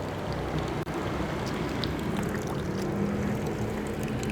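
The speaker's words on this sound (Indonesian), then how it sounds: "Ini kayaknya motornya harus basahin dulu ya." Water spraying continuously over a motorcycle before washing, a steady broadband hiss and splatter with a low rumble underneath, close and fairly loud.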